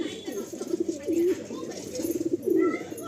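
A Kalanka pigeon being handled coos in several soft rolling phrases, close and fairly quiet, with light rustling between calls.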